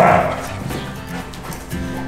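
A Belgian Malinois indoors at home gives a short, close bark with whimpering yips, loud at first and then fading into lower sounds, with faint talk underneath.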